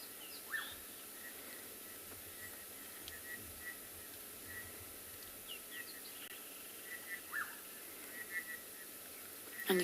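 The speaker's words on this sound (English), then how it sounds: "And you can see the birds are all still calling." Birds call faintly in scattered short chirps and whistles over a soft hiss of light drizzle at sunset on an African safari reserve, distant and sparse.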